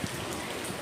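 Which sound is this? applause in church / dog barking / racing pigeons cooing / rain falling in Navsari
rain falling in Navsari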